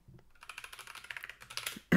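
Keys on a computer keyboard, numpad 0 and H among them, clatter in a fast run of close, crisp clicks that builds slightly louder toward the end, with no talking.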